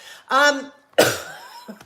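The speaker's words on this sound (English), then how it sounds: "I coughed and then breathed in." Two harsh coughs a moment apart, close and loud, followed by a short breathy intake and faint throat noise.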